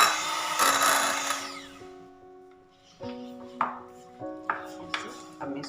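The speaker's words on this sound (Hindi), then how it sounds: "अब मैं इसको बीट कर लूँगी," An electric beater whips cold whipped cream in a bowl. Its steady motor whine shifts in pitch between speeds, with sharp clacks and knocks as the beaters bump the sides.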